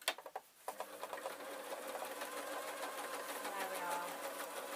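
A sewing machine stitching an orange, lacy Halloween dress runs with a steady, fast mechanical whir after a few brief starts, close and continuous, with a short spoken remark at the beginning.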